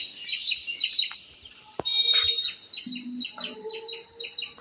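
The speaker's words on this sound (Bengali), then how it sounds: "একটা পাখি ডাকতেছে কি পাখি নাম জানি না" A bird calls nearby at a home with guava and mango trees, repeating quick high chirps and twittering notes in rapid succession, close and clear over a quiet background.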